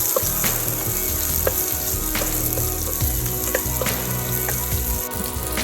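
Onions fry in hot oil for deviled chickpeas, producing a loud, continuous crackling sizzle up close, with occasional stirring clinks and scrapes against the pan.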